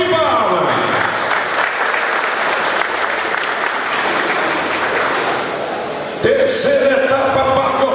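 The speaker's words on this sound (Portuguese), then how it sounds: "Salve de palmas." Audience applause at the opening ceremony of a 2016 ANQM horse event circuit, loud sustained clapping filling the whole stretch, briefly dipping before a fresh burst near the end.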